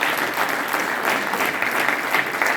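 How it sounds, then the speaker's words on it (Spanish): Audience applause at a community gathering, a steady, even wash of many hands clapping that holds at moderate loudness throughout with no speech over it. "¿Por qué no damos un fuerte aplauso a nuestro amigo Javier"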